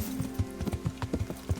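Horse hooves clip-clop in a steady, close rhythm of distinct thuds while riding through open countryside in Kingdom Come Deliverance, a low hum beneath and no talking.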